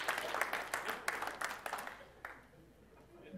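A church congregation breaks into applause, a dense wash of many hands clapping close by that swells and then thins out toward the end, with a little voice mixed in.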